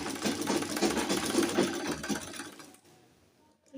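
A sewing machine stitches bias tape along the hem of a dress, a fast steady whirring chatter up close that runs a few seconds and then stops.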